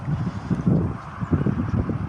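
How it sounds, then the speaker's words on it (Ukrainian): Gusty wind buffets the microphone outdoors in an open field where a Savonius vertical wind turbine is being tested, a steady low rumble with rolling surges for about two seconds. "Вітер дує звідти."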